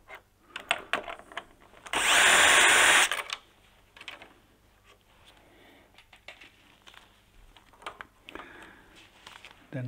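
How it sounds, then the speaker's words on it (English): A power screwdriver whirs in one short, loud burst of about a second, undoing screws on the fan circuit board of a Mitsubishi Electric LN Hero unit, followed by quieter handling clicks and taps. "Open this couple of screws."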